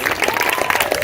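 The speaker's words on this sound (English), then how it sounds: "well-deserved round of applause" Audience applause for playwrights and directors at a play festival, a brief burst of dense, close hand clapping.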